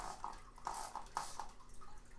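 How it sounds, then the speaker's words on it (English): Spray bottle misting a soap, alcohol and water mixture onto a pothos plant, a few quick faint hissing spritzes in an irregular rhythm, close and quiet. "I use the spray bottle here. It's got a mixture of soap, alcohol, and water."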